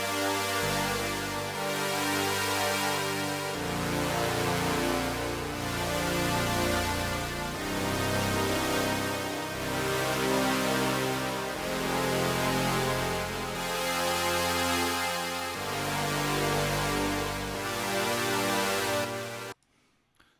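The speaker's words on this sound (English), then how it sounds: "and when they play together they sound like this." VCV Rack software synthesizer sequencers play a chord sequence of a bass part with the root and two single voices, forming dense, sustained layered chords that pulse in a steady cycle of changes before cutting off abruptly.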